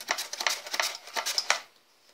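A potato is grated on a hand grater in a home kitchen. Close, crisp scraping strokes come in an uneven, quick rhythm for about a second and a half, then stop and leave near silence, with no talk.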